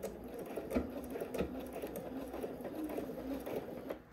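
Home sewing machine stitching a garment facing to its lining, a steady, even mechanical whir heard close and fairly quiet on its own.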